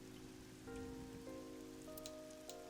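Steady rain falls in the video game AI: The Somnium Files, a soft continuous patter with a few sustained musical tones layered over it.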